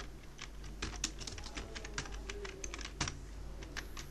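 Rapid keystrokes clatter on a computer keyboard as HTML is typed, a close, quiet and uneven run of clicks with a few heavier taps and no talking.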